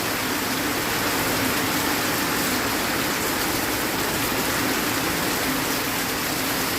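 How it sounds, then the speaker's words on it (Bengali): Steady rain falls continuously as a dense, even hiss, with water pooled all around, no voices and no other distinct sounds. "এই বৃষ্টিটা আমার মনে হয় সব জায়গাতেই হচ্ছে"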